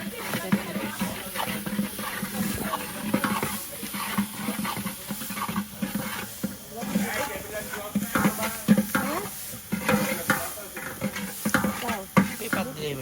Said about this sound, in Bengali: এখানে চার টেবিল স্পুন রসুন বাটা দিয়েছি এখন নাড়া দাও